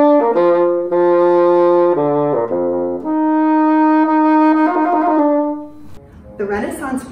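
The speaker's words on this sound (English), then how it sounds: "But when that sound is amplified through the bassoon, it has a rich tone." Bassoon playing a short sequence of sustained notes with a rich, reedy tone, close and clear, the phrase stepping between pitches before trailing off into a few brief breathy or clattering sounds.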